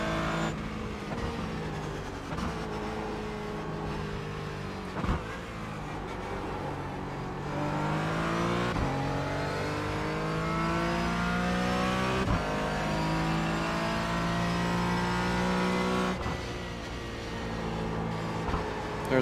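A train of race cars in an iRacing sim race at Barber runs in close succession, engines droning and revving steadily with rising and falling pitch, continuous and loud, no talk.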